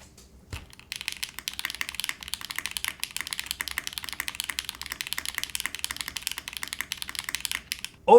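Rapid, steady typing on a mechanical keyboard fitted with a touch screen knob, close and alone, a dense run of crisp key clacks after a brief pause at the start.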